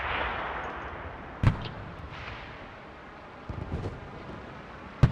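Gunfire in the online shooter game Enlisted: a few sharp shots and booming reports stand out at intervals over a steady rumbling background, with no talking.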